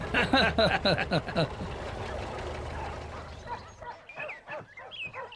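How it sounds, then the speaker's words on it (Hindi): Foreign-breed pet dogs bark in a rapid cluster at the start, then give a few scattered yips and whimpers near the end, with soft talk and faint background noise between. "देखा, विलायती कुत्ते हैं।"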